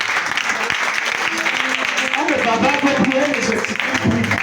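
A church congregation at a Sunday worship service breaks into steady, loud applause that fills the room, with voices talking and calling out over the clapping.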